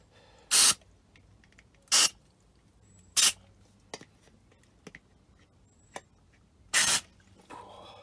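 An aerosol can sprays in four short, sharp hissing bursts about a second apart, close and loud, in a quiet setting working on a barn-find RD 125LC motorcycle, with faint clicks between.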